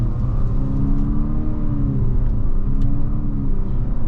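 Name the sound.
Infiniti QX50 accelerating with CVT simulated gear shifts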